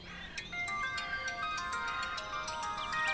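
A phone ringtone plays a repeating electronic melody of bright tones, steady and fairly loud, with no voices.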